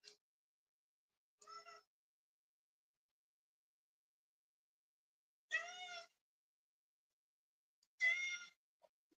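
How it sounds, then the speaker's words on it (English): A cat meows four separate times in a quiet room, short clear calls spaced several seconds apart, the later two louder and longer. "The cat meows help."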